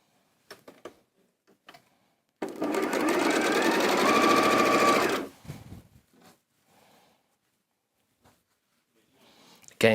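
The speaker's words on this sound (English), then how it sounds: "I'm now going to carry on sewing these 2 together here." A sewing machine stitches quilt fabric pieces together in a loud, steady whirring run of about three seconds, with brief quiet clicks before and after it.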